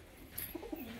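Murshidabadi desi Giribaj pigeons, a white-tailed Lalmohan hen and cock pair, give a couple of soft, faint coos over a quiet background.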